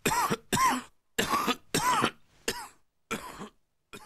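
About seven harsh, chesty coughs in quick, separate bursts, loud and close, from a Veno's cough remedy advert on British television.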